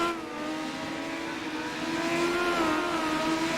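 Race cars in a Legends series race roar around Texas Motor Speedway, a steady, loud engine drone that swells slightly toward the end, with no talk.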